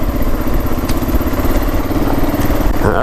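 Kawasaki KLR 650 motorcycle engine running steadily on a rough back road, a loud, close, continuous mid-pitched rumble with rattly mechanical clatter throughout and no talking.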